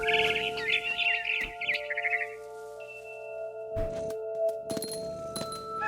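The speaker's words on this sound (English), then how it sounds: "It was a barn swallow going back to her nest." A barn swallow chirps in What Remains of Edith Finch, a quick run of bright twittering calls near the start, then glassy clinks and ringing tones with a few soft thuds; no talking.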